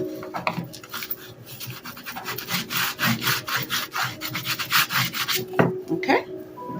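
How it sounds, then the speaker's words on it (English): A hand tool burnishes a paper page down in a patchwork envelope insert, giving a close, dry rubbing and scraping in quick repeated back-and-forth strokes, fairly loud, with a few light taps near the end. "We're going to bring that page over and burnish that down."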